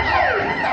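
A loud, wailing ambulance siren with pitch sweeping up and down, close by and continuous for the brief moment, during an Odia jatra stage performance.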